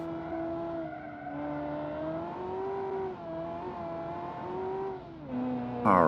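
A Kiev Motors 08 (A13) car engine revs in BeamNG, a steady buzzing tone rising and falling through gear changes, loud and alone, ending with a sharp burst of high whine.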